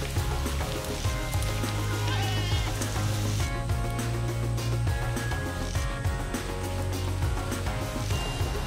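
Goats from a grazing business that clears unwanted vegetation bleat repeatedly throughout, a dense, continuous chorus of overlapping calls from a sizable herd, fairly loud and steady.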